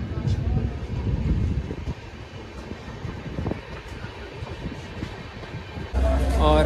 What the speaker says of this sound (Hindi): और नरनौल से डिपार्चर लेती हुई मेरी ट्रेन